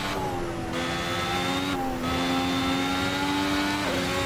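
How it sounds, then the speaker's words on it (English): A Ferrari SF71H Formula 1 car in Assetto Corsa is driven at full throttle. Its high, steady engine whine climbs with each gear and drops sharply at three quick upshifts, loud and close with no talk. "The 5th gear, full throttle, 6th gear over the exit curbs through Lake Combe."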